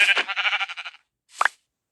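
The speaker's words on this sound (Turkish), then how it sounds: "Ha, keçiymiş." A goat in the Minecraft video game bleats in a loud, close, quavering call lasting about a second, followed after a short pause by a brief second bleat.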